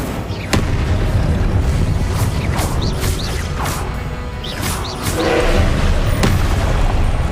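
Spell blasts crackle and boom during combat in the Hogwarts Legacy video game, including an Incendio fire spell, with several sharp bursts and whooshing swells over a dense, continuous rumble of game sound effects.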